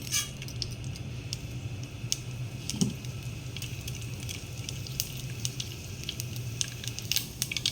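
Mustard seeds and fenugreek spluttering in hot sesame oil in a pan, a steady sizzle with frequent sharp pops and crackles throughout.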